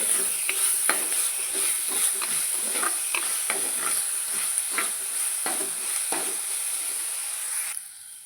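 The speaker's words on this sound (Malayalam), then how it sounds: "അപ്പോൾ ഉള്ളി വേഗം വഴന്ന് കിട്ടും. ഉപ്പിട്ട് നന്നായി ഇളക്കാം." Sliced onions with salt frying in a pan for a prawn curry, a steady hiss of sizzling under repeated soft scraping strokes of a stirring spoon, close and continuous.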